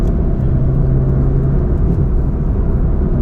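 Loud, steady engine and exhaust drone from a Toyota GT86 with a 6-speed manual being driven on a hill climb, a continuous low rumble close by.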